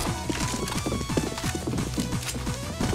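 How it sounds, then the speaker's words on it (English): A horse's hooves clip-clop in a zombie-defense video game, a quick, continuous run of hollow knocks over a dense, busy game soundscape, with no talking. "And you got Gary with his horse."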